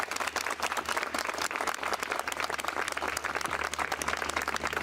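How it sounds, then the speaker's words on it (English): Crowd applause and clapping at the reopening of Painter Park in West Haven, a steady dense patter of many hands held at fairly close range for the whole stretch, with no voices standing out. "Let's give them a big round of applause."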